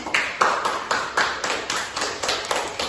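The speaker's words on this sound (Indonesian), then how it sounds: "Ibu akan memberi motivasi kepada kalian untuk semuanya tepuk tangan untuk diri sendiri" Students in a classroom clap for themselves in a regular, rhythmic pattern, each sharp burst of hands striking together at a steady pace, fairly close and clear with no voices over it.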